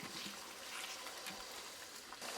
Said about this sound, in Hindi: इसी चिकन वाले बोल को धो लें, उसके अंदर पानी शामिल कर दें।